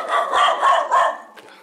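A dog on a hillside path near Daikaku-ji in Kyoto, by the tomb of Emperor Saga, barks several times in quick succession, close by and loud.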